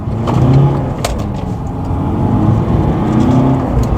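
A Mercedes C-Class accelerates on the road, heard from inside. The engine hums low and continuous with a rising whir, and faint clicks come from the cabin. No talk is heard.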